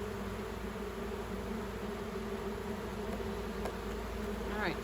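Honey bees hum in a low, steady drone around an opened beehive, a close buzz with occasional individual bees passing nearer, no talking.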